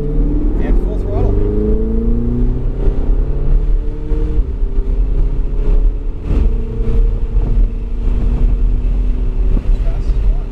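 A Ferrari 488 GTB on the Kansas Speedway track runs at full throttle, its engine note loud and rising steadily in pitch, heard from onboard while an instructor talks over it.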